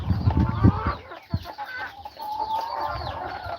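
Chickens clucking close by in a farm building, short throaty clucks and squawks mixed with soft murmuring calls.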